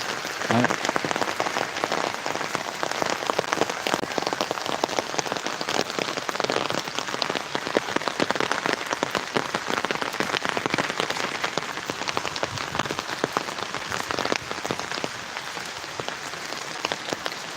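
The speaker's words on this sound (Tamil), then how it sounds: "இப்போ ஒரு மூணு நாளாக பார்த்தீங்கன்னா கண்டினியூஸாக மழை வந்துகிட்டே இருக்குது நம்ம ஏரியாவில்" Steady, continuous rain falling on surfaces in an outdoor area, a dense unbroken patter that stays loud and even throughout with no voices.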